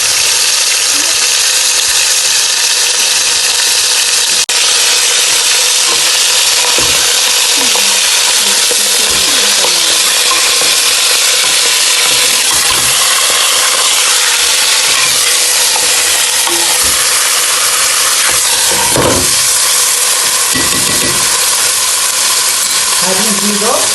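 Rougag dough frying in a pan, a steady loud sizzle running throughout with a few brief knocks and clatters from handling.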